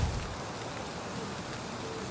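Steady rain falling in the video game Valheim, a constant even hiss of drops with no breaks or other sounds.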